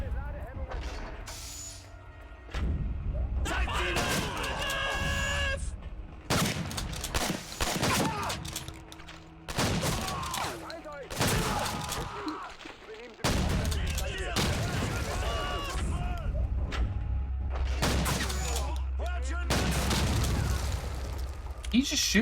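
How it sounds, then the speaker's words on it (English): Gunfire and clanking mechanisms in the video game Wolfenstein: Blade of Agony, bursts of shots and impacts recurring across the stretch, with people talking over much of it. "Did he just shoot the other guy?"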